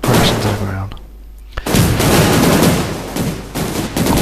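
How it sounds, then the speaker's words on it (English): Crashing rocket in the Kerbal Space Program video game setting off a stream of small explosions, dense crackling bursts and booms that fill the clip loudly with a brief lull partway through. "lots of little explosions"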